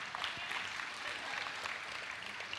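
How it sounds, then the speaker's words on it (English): Church congregation applauding during a Sunday service, a soft, steady patter of many hands clapping at a distance, fairly faint throughout. "Yeah, you can give her a round of applause."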